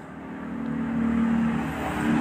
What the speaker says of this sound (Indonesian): Wow, ini mobil off-road.